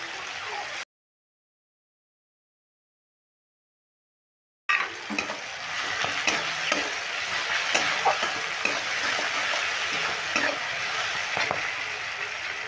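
Crushed garlic dropped into hot oil while cooking a cauliflower roast, a dense steady sizzle running for several seconds after a brief opening stretch and a gap of silence, with faint stirring clicks and no speech.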